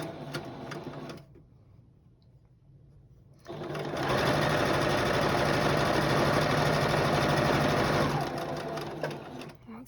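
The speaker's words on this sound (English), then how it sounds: "we're going to stitch 1/4 inch" Sewing machine running a quarter-inch seam through quilt fabric, with a brief burst of stitching, a short pause, then a steady, close, loud run of rapid mechanical whirring for several seconds before slowing.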